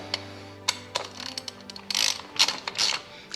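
Ratchet clicking in short bursts while Champion spark plugs go into a Honda S2000 engine, close and fairly quiet, with metallic ticks and small knocks between the turns.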